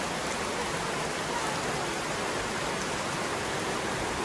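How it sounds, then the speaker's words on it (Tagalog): Steady rain pours down on a farm, a dense, even hiss with no breaks, fairly loud and close, with no voices over it. "Inabot kami ng ulan"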